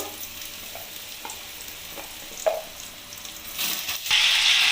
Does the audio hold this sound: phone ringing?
no